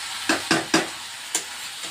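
Chicken pakoras going into hot oil, four short sharp bursts of sizzle and splash in quick succession, then fading to a soft background fry.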